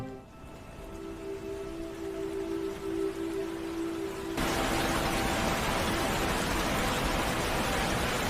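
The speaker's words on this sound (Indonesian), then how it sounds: "Dan di saat itu pula, Laura mulai merasakan tetesan hujan" Faint patter of rain gives way to a sudden, much louder steady downpour hiss halfway through, with a brief tonal hum early on.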